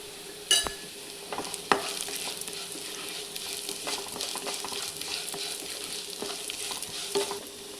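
White sesame seeds fry with a soft crackling sizzle in a pan while a spoon stirs them, with a few sharp scrapes and clinks against the pan over the steady frying.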